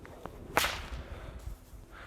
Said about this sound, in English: Do an overhead crack in one arm and spin the other whip over